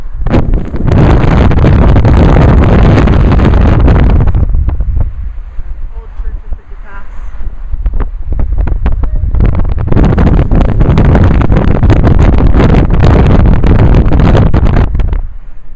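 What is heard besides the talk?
wind noise from open car window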